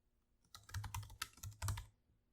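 Close, soft keystrokes on a computer keyboard while entering a name in music notation software, a brief flurry of about a dozen taps over roughly two seconds.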